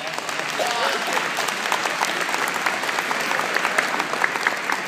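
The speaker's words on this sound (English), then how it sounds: "Give them all a round of applause" Steady, dense round of applause from an audience at an inauguration speech event, even and sustained throughout with a few sharper claps standing out.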